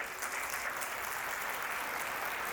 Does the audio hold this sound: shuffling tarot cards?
no